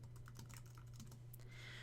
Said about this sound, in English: we can kind of move our cursor where we need to go so that we can start typing up here